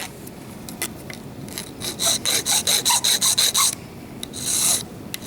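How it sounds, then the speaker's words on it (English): A metal file strokes across a band ring held flat, about ten rapid, even rasping strokes in a row, close and fairly loud, followed by a few scattered scrapes and one longer rub near the end. "So I'm just going to get my file and hold it flat like that."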